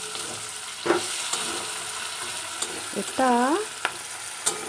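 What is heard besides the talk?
chopped onions frying and being stirred for chicken kosha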